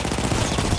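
Rapid bursts of submachine gun fire in the video game Battlefield 1, fast rattling shots in a brief continuous volley.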